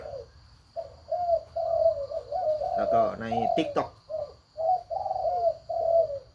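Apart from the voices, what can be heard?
bird calling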